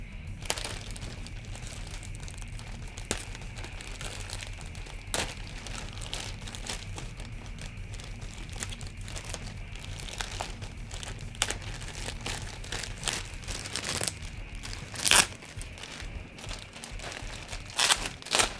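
An X-Acto blade slices open the packaging of a Middle-earth: Shadow of War Mithril Edition statue. Steady crinkling and scraping of plastic and cardboard runs throughout, with a few louder tearing crunches toward the end and no talk.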